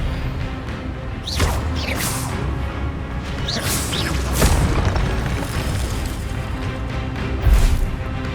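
Magic spell effects from the Hogwarts Legacy game: whooshing swishes and low booming impacts recur every second or so over a steady rumble, with a few stronger bursts near the end.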